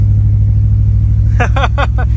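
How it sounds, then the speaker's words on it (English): A BMW car engine running on E85 fuel idles with a low, steady hum, and a person talks briefly over it near the end. "That was a really quiet startup."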